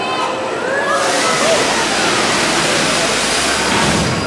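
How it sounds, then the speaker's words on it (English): A large water trough at a science museum tips over and dumps its water into a big vat, a loud continuous rushing torrent of sloshing and pouring that fills the space. "it'll tip over and dump all the water into this great big vat"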